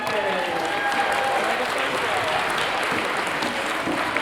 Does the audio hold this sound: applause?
yes